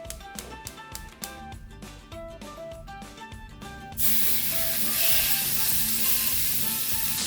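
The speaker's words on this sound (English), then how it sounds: "you will hear the sizzling of the oil" Music plays alone, then about halfway through a loud, steady sizzle of chicken frying in hot oil bursts in and continues under the music.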